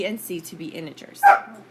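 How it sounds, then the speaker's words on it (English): Dogs bark in sharp bursts during a maths lesson. A single loud yelp rises near the end, and a person lecturing speaks over the noise throughout. "that's my dog. You can probably hear them fighting."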